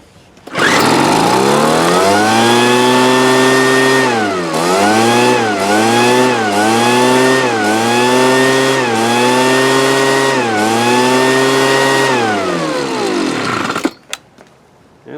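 A 24-year-old 1997 Weed Eater BV 1800 leaf blower with a 24cc two-stroke engine, leaking some fluid, runs close and loud for about thirteen seconds with a buzzing whine that repeatedly dips and surges in pitch, then cuts off.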